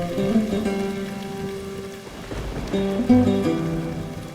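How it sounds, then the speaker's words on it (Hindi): Steady rain falls, a soft continuous hiss of drops on surfaces underneath sustained music tones, with no speech. "काश कि ये बारिश बस बरसती रहे"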